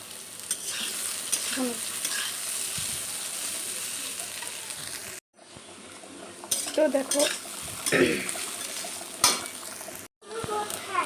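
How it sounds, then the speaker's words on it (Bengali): Leftover fried potatoes (aloo bhaja) reheating in a pan, a close sizzle broken by scraping stirs and light utensil knocks, with two brief gaps of near silence. "তো দেখো আমার আলু ভাজাটাও কমপ্লিট হয়ে গেছে গরম করা।"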